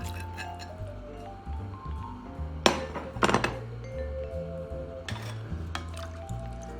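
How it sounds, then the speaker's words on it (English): Pieces of beef drop back into a pot of simmering stroganoff with wet thuds and squishes, clustered in a few sharp bursts over soft background music. "we're gonna go ahead and put our beef back in"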